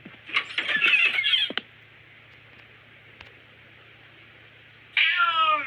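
A cat in the horror video game The Boiled One meows in a long, loud, drawn-out wail, then falls silent over a low hum before a second close, wavering meow starts.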